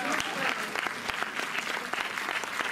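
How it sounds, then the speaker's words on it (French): Audience applause at a film discussion event, a dense steady clapping from a crowd filling the room at even loudness throughout, with no talk over it. "ça s'applaudit quand même"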